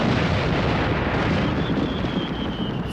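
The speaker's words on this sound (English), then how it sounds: "Fireworks? That's right, and big, beautiful ones, too." Big fireworks going off down at a beach, a dense continuous roar of rumbling booms and crackle, loud and sustained with no distinct gaps between bursts.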